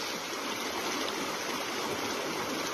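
Stream water pouring over a grass-mat gold sluice in a creek makes a steady, loud, broadband rushing and splashing that holds constant throughout, with no voices.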